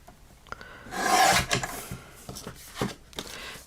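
Scissors or a blade trimming the edge off a paper craft piece, a soft rasping cut swelling in the middle followed by small taps and rustles, close and fairly quiet with no talk.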